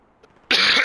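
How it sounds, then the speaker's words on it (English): A player in a Fortnite ranked match coughs once, a loud, harsh burst that starts abruptly halfway through and lasts to the end, close up, with no talk. "Probably gonna get me while I'm coughing."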